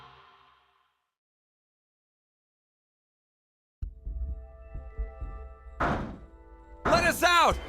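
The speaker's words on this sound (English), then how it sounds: "Bang all you want, it won't open." Repeated heavy thuds of fists banging on a locked door in the video game Zero Time Dilemma, loud and irregular, followed by a shouting voice.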